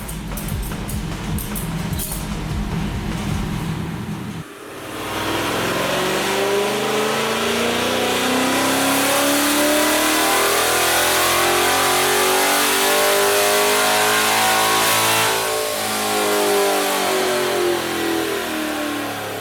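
A C8 Corvette with bolt-ons and a cam runs on a chassis dyno. After a brief rough idle, the engine pulls in one long, loud rising wail that climbs steadily, then falls and winds back down.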